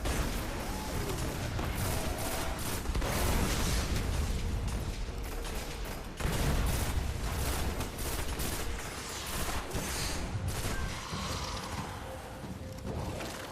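Dense, continuous gunfire and bursts from the Destiny: The Taken King shooter game fill the scene, rapid overlapping shots and pops at steady loudness, with a brief lull near the middle before firing resumes.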